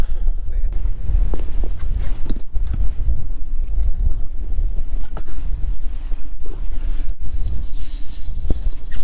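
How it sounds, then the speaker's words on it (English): Strong wind on a boat on Lake Erie roars and buffets loudly and continuously, a heavy low rumble filling the whole moment with occasional gusty thumps against the microphone. "the wind just picked up at least probably almost double"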